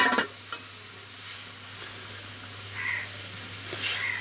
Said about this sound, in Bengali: এদিকে দেখো ঝোলটা ফুটে উঠেছে, আর মাছটা এখন আমি দিয়ে দিচ্ছি